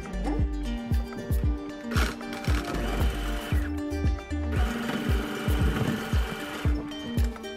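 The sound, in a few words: sewing machine doing a top stitch on a blouse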